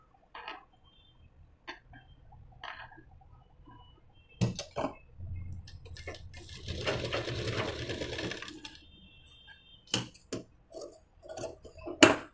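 A sewing machine stitches a puff sleeve in one short run of whirring chatter in the middle, surrounded by scattered clicks, taps and handling knocks of the fabric and machine.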